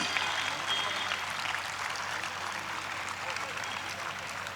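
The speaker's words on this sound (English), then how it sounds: "My children and my staff deserve a big round of applause for their efforts and dedication." A school annual sports day audience applauds, the steady clapping sounding faint and distant as it holds evenly throughout without any clear break or pause.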